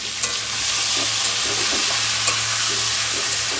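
Boiled taro corms frying in a kadai with panch phoron and green chili give off a loud, steady sizzle with a few faint stirring scrapes, and no voices.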